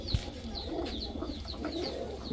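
A pair of Beji pigeons gives soft, repeated coos close by, a short quiet rhythmic burble without talk.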